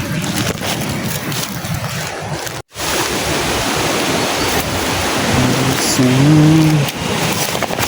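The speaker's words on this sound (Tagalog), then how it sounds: "Lakas ng hangin" Strong wind roars steadily in broadband rush with a brief dropout partway through, loud and close against the microphone.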